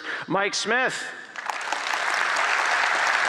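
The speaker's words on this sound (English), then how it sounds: "Let's give a huge round of applause for the lead developer at the Chipotle online service" A live audience at a business technology event bursts into sustained applause right after a man briefly announces a name. The clapping is dense and steady to the end.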